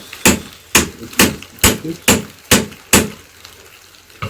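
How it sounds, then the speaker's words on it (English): Eight sharp metallic hammer blows on a car front-suspension part ring out at a steady, slightly uneven pace, close and loud, with faint scraping between strikes. "Bash this in with the hammer."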